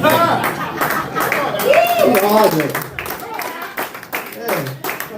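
An audience at a stand-up comedy show claps in scattered bursts and patters beneath a comedian's continuous talking. The applause stays fairly light against the voice.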